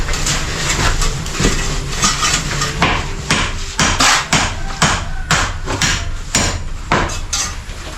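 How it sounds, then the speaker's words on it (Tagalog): A hammer strikes hard in a rapid, fairly steady series of sharp, loud impacts, with some blows landing close together, near and dominant with no talking over it. "Martilyo."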